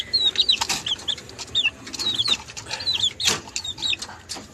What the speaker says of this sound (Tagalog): Sila din akong mga manok guys.